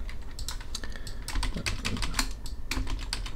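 Computer keyboard keys tapped steadily while a shift key is held and arrow keys nudge points in Adobe Illustrator, a close, continuous patter of quick clicks.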